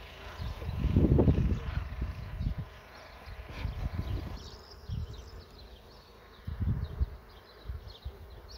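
Honey bees buzz around a beehive frame during a beekeeping inspection, faint swells of buzzing rising and falling in several bursts, close to the microphone with no talking.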